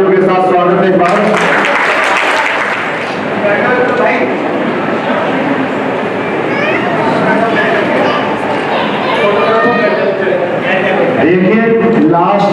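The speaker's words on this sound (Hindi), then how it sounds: "तालियों के साथ स्वागत है एक बार" Sustained applause from an audience at a stage play performance fills the air, clapping steadily throughout with voices mixed in.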